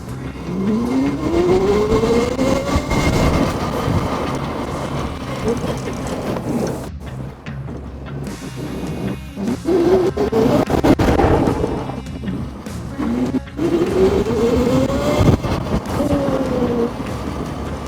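An electric quad bike (ATV) built for the Ukrainian armed forces drives past and accelerates several times. Its motor gives a rising electric whine over tyre and ground rumble, surging and fading in repeated runs.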